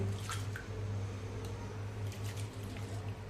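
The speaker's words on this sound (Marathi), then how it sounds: "आता आपण पाणी भरपूर असं घालूया तांदळामध्ये आणि 2-3 वेळा पाणी घालून चांगले धुवून घेऊया. चांगले चोळून धुवून घ्यायचे." Raw ration rice is rubbed and rinsed by hand in plenty of water, with close, steady wet squishing and sloshing over a constant low hum.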